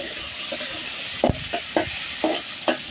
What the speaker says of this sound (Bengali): পেঁয়াজগুলোকে ভেজে নিচ্ছি